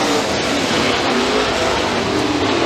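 Super late model race cars in a heat at Freedom Motorsports Park, a pack of engines roaring together at full throttle, a dense, loud, continuous rumble with no breaks.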